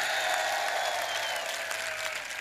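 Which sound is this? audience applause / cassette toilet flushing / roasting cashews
audience applause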